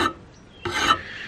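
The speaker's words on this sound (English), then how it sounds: "We're going to use our rasp, and what we're going to do is just gently follow." A rasp is drawn along the edge of an old axe blade, giving a short scrape and then a longer, louder grinding stroke that trails off.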